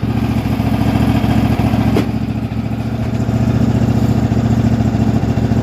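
A 2023 Cub Cadet ZT1 54 zero-turn mower engine idles close by with a steady, loud, low throbbing drone that runs unchanged throughout, no voices.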